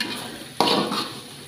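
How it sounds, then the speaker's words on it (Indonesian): Spice paste stir-fried in a pan for a spicy potato and stink bean sambal, a steady close sizzle that jumps louder halfway through as the paste is stirred, with faint utensil scraping and no talk. "Kita goreng sehingga bumbunya menjadi harum."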